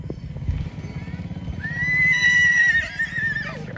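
A white mare neighs loudly, a long rising whinny in the second half, over a steady clip-clop of hooves close by, recorded in Junagadh.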